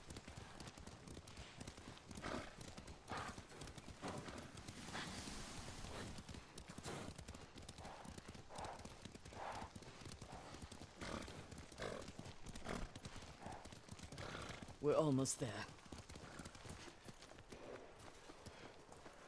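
Horse hooves clip-clop at a galloping pace in a samurai action video game, rhythmic and fairly close, with a snort or whinny near the end and a short spoken line over it.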